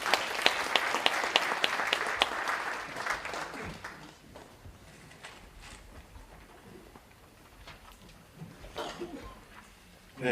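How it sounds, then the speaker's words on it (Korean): Applause from an audience at an international conference forum, dense clapping at first that thins out and fades over several seconds, with a few scattered claps afterward. "정재영 이화대 교수님을 큰 박수로 모시겠습니다."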